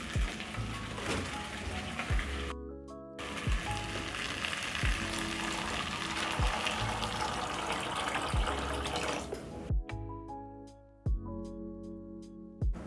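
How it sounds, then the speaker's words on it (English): Water pours from a tap into a cooking pot of green peas, a steady broad gush with a few sharp clatters of the pot and lid, loud and close, easing to quieter bubbling and knocks toward the end. "I'm going to add about 2 cups of water, cover, and let it simmer for around 5 minutes."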